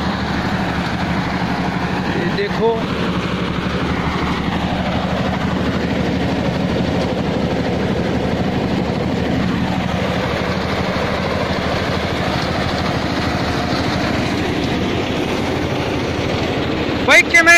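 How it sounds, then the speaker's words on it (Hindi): A tractor-driven thresher works mustard in a field, a steady loud mechanical drone and engine hum running throughout, with people talking over it. "ये हड़म्बा चल रहा है, तो कम चल रहा है"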